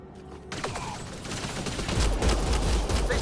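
Rapid bursts of gunfire in the video game Mass Effect Andromeda, a dense fusillade that builds from a quieter start into loud, continuous shooting with sharp cracks throughout.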